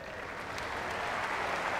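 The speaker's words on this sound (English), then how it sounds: "he gets a nice round of applause from the Catamount faithful" A basketball crowd of home Catamount fans gives a steady round of applause in the arena, a soft, continuous wash of clapping heard at a distance.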